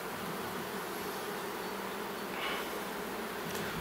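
Dense honeybee buzz from bees crowded on a hive frame during a queen-rearing split, a steady close hum with no pauses and no voices.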